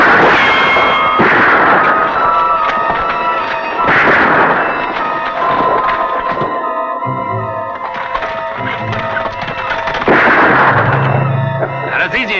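Gunshots ring out during a shooting contest in a western film, with a few sharp, loud bangs spaced seconds apart over continuous orchestral score.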